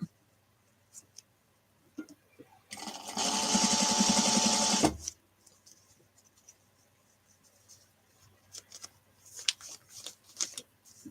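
A home sewing machine, not a self-threading model, runs in one steady two-second burst of stitching, with quiet handling clicks and rustles before and after.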